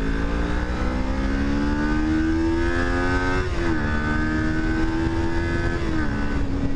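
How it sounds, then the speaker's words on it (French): A Kawasaki Ninja 400 KRT 2023 motorcycle being ridden, its engine holding a steady loud drone with a slow rising pitch, briefly shifting twice, under constant wind rush. "Donc là on est sur une moto"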